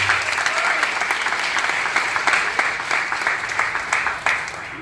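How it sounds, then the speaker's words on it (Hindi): An audience claps steadily and densely at a Hindi-language Christian sermon gathering, with the applause holding as a continuous, fairly loud wash for the whole span and no talking over it. "एक बार उनके लिए ताली हो जाए।"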